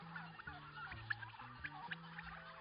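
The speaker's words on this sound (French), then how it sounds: "les milliers de pintades, de poulets et de dindes n'hésitent d'ailleurs pas à se faire entendre" Thousands of free-range turkeys, guinea fowl and chickens on a farm call together, with a busy chorus of clucks and gobbles, some sharp cries standing out, and someone talking over it.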